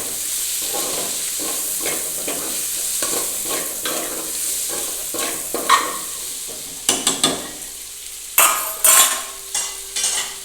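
Onions, potatoes and tomatoes cook in a pan for a poha-batata dish. A soft sizzle continues under repeated spatula stirs. Sharper metallic scrapes and clinks grow louder toward the end.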